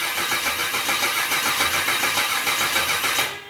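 A Chevrolet LS1 5.7-litre V8 cranks over on its first start, a steady, loud, rhythmic churn of the starter turning the engine for about three seconds before it cuts off.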